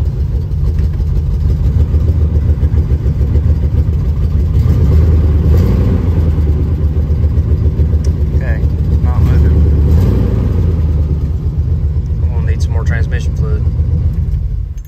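An old Chevy Nova, parked for 24 years, idles with a steady, loud low rumble that holds evenly throughout, while someone talks briefly over it.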